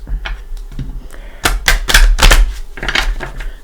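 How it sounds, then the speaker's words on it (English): A small deck of tarot cards is shuffled by hand close up, with a quick series of crisp slaps and riffling clicks that grows louder in the middle. "These are a little harder to shuffle because there's not a lot of them."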